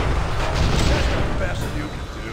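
Two grenades go off in a Thai-language shooter game, a dense, sustained rumbling blast filling the whole stretch with heavy low-end booms, loud and close, while a player's voice talks excitedly over it.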